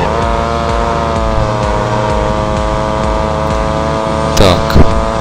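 A moped engine runs at about 100 km/h in the motorcycle racing game Real Moto, holding a steady, loud, buzzing drone with a constant pitch. A short rustle is heard near the end.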